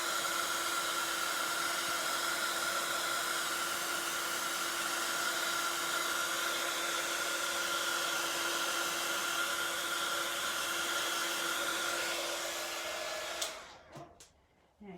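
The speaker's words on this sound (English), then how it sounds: "I'm just going to dry that off with the heat tool before I turn it over." Heat embossing tool blowing hot air to dry paint, a steady loud whooshing hiss that runs without a break for about thirteen seconds, then cuts off near the end, leaving a few faint clicks.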